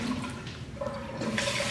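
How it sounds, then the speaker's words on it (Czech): Fresh water being poured into a container holding an egg, a short, soft gurgling pour with watery splashing, close and fairly quiet. "Ale když to nalijeme sladkou vodu"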